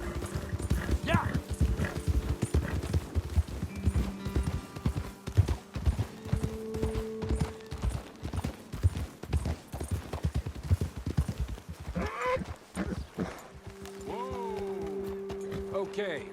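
Horse hooves clip-clop steadily on a dirt trail in Red Dead Redemption 2, close and rhythmic, with a horse's whinny and someone talking over the riding before it slows.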